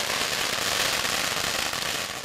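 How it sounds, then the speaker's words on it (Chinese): A long string of firecrackers goes off at a celebration outside a Taoyuan shop, a loud, dense, continuous rattle of rapid bangs that keeps going the whole time. "响彻云霄的鞭炮声，道出桃园的喜讯。"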